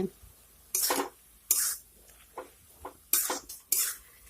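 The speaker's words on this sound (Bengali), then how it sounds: "এখন সবগুলি উপকরণ একসঙ্গে নেড়ে মিশিয়ে নেব" A spoon stirs spinach with green chillies in a pan, making a few separate scraping clinks against the metal, close and fairly quiet.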